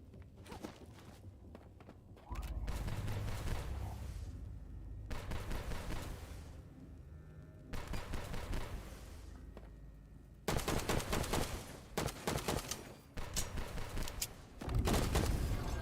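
Bursts of gunfire from the video game Dungeon Stalkers come in several rapid volleys over about sixteen seconds, separated by quieter stretches with footsteps, close and loud, with no talk.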